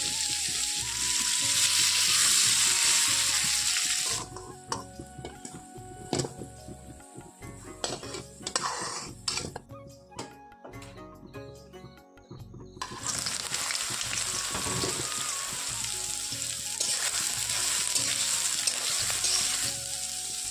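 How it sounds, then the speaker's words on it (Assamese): Soybean chunks with turmeric and salt fry in a pan, a steady sizzle with scraping and clinking of a utensil stirring against the pan, quieter in the middle stretch. "সয়াবিনখিনি ভজা হৈ গ'ল"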